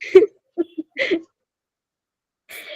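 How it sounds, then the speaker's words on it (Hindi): A few short, harsh coughs in quick bursts, close by, with a brief pause before one more rough cough at the end. "खांसी हो रही है, रो नहीं रही मैं।"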